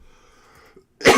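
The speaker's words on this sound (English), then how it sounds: "My apologies for my cough" A single loud, harsh cough bursts out near the end after a stretch of quiet background.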